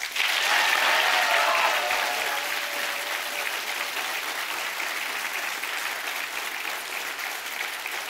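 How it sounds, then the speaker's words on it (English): Loud, dense applause from a keynote audience greeting Gus Sorola at a Rooster Teeth event, swelling at the start and then holding steady as a broad wash of clapping for several seconds. "let's give a round of applause one more time for Mr."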